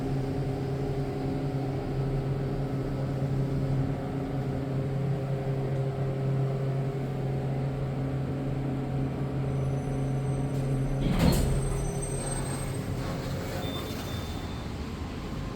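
A Montgomery Kone hydraulic elevator in a Gainesville, Florida parking garage runs with a steady, close mechanical hum, broken near the end by a brief sliding clatter of its door.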